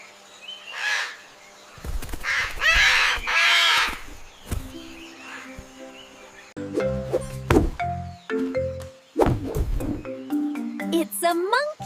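A parrot squawks and calls in a string of sharp, varied cries, following a few moments of a person talking, with soft music underneath.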